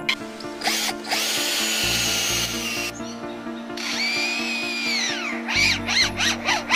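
A lyrebird imitates a power drill: whining, buzzing tones that rise, hold and fall in a few sustained bursts, close and steady.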